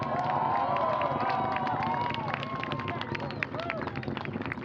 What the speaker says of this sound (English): Crowd watching the launch at Wallops there, cheering its liftoff.